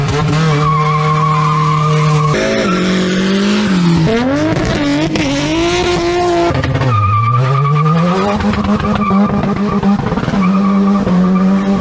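Cars at an illegal street drag race in Mobay skid with loud, sustained tire squeals over roaring, shifting engine revs. The noise is close and continuous throughout.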